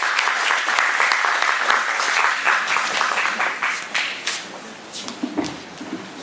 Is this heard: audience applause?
yes